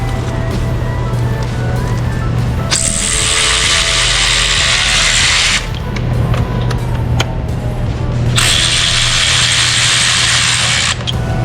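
Ratchet with an extension loosening fasteners on the damaged front end of a 2013 International DuraStar truck, in two long bursts of rapid clicking over a steady low hum, close and loud with no talk.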